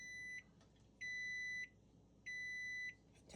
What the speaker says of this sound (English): Hear that? Beep, beep. That's an error.